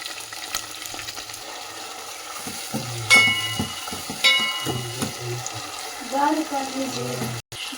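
Mutton keema frying in a pan, a soft continuous sizzle with occasional scraping and knocking of a spoon, moderately close, and a voice murmuring briefly in the background.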